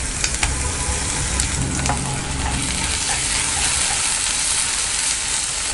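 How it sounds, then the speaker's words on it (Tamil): Ginger garlic paste sizzling with golden onions for paneer tomato biryani, a loud continuous fry with scraping stir strokes near the start and no voices. "இப்போது இஞ்சி பூண்டு பேஸ்ட் ஆட் பண்ணிக்கலாம்."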